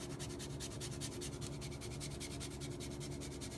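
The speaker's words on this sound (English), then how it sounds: "I'm going to grate a little bit of ginger in here real quickly" Fresh ginger is scraped quickly across a fine grater, giving a fast, even run of rhythmic rasping strokes, close and fairly quiet, repeating steadily with no talk.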